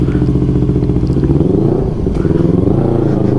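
A Kawasaki motorcycle being ridden to a service centre, its engine chugging loud and close with a steady throbbing idle-to-cruise rhythm and slight revving, wind and road noise underneath, no talk.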